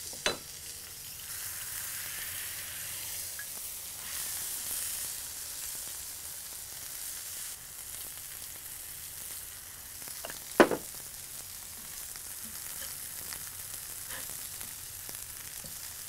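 Bacon frying on a griddle for a smoky double bison bacon cheeseburger, giving a steady, soft sizzle throughout with a couple of sharp clanks or scrapes of a utensil.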